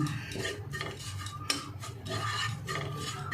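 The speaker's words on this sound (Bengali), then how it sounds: "এই কসুরি মেথিটা একটু ড্রাই রোস্ট করে নেব" Dried kasuri methi (fenugreek leaves) dry-roasting in a pan over medium heat, with a spatula scraping and rustling the crisp leaves in quick repeated strokes against the metal, close and fairly loud.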